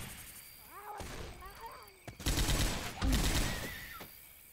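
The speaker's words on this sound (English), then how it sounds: "It's sad how some of your shooting can actually provide some light." Gunfire in the Left 4 Dead 2 swamp campaign, a dense burst of several loud close shots with sharp impacts in the second half, following a stretch of game sounds and voices in the first half.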